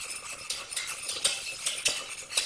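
A balloon whisk stirs a flour roux in a pan just pulled off the heat, making steady, rhythmic scraping swishes with soft clinks against the metal, close and moderately loud, with no talking.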